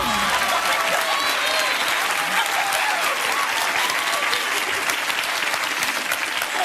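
A game show studio audience applauds steadily and loudly throughout, dense clapping with no pause and a faint crowd murmur underneath.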